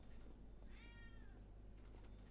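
A single short meow from a cat, close by and clear, over a steady low background hum, with no talking.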